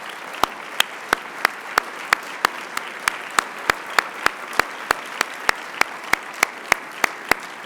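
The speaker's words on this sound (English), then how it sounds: "let's give Bill a round of applause" Sharp, evenly spaced claps at a regional planning gathering in Central Ohio ring out at a steady beat, about three a second, loud and close over a soft background hiss.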